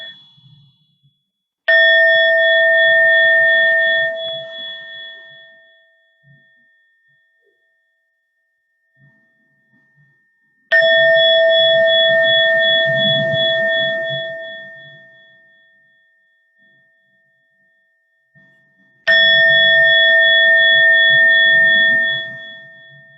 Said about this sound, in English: I'll ring the bell 3 last times to conclude our practice.